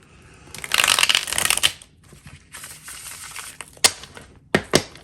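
A thick deck of oracle cards is shuffled in a loud, fluttering riffle, followed by quieter rustling and a couple of sharp snaps as the cards are squared up.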